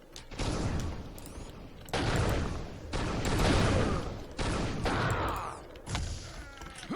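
Sniper rifle fire in the Unreal II game, a run of loud, heavy blasts of broadband noise, each lasting about a second and following one another closely in a deathmatch.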